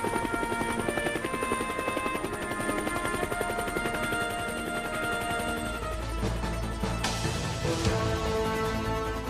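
Bell UH-1 Huey military helicopter rotor thumping in a steady rapid rhythm with a whining turbine tone, loud and continuous, shifting slightly in character toward the end.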